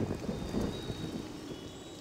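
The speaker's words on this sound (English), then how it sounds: "you can go ahead and use your Rain of Purity to speed up your farms" Rain and thunder effect from the Rain of Purity power in the Godus mobile game: a steady, even hiss of falling rain over a low rumbling bed, continuous and moderately loud for about two seconds.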